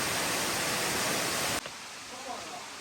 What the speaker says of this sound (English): Cascading streams and waterfalls.